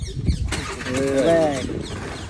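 A Honda Activa scooter engine catches and revs briefly after a short starting crank, close by, with people chatting over it.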